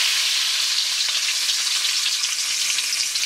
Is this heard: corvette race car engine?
no